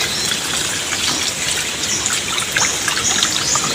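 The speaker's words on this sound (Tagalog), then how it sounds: "Maglalagay na po tayo ng tubig." Water gushes steadily from close by as it is poured into a pot of marinated pork for a Filipino pork-fat asado, a continuous splashing pour with no talking.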